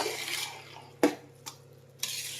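Food is stirred and mixed in a pot, with a faint, quiet scraping swirl broken by three sharp clinks of a spoon against the metal at roughly half-second intervals.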